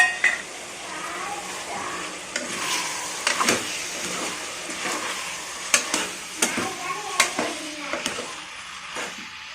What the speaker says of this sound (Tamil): இப்போ இதை நல்லா கிளறி விட்டு நல்லா வதங்கணும்